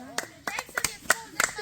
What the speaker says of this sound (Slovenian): En aplavz prosim za Evelin.